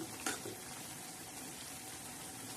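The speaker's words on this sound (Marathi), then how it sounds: "तर थोडी भाजी आपली शिजत आहे" Spinach and moong dal sabzi cooks in a pan, a soft, steady sizzle and bubbling simmer heard close and faint, with one brief clink near the start.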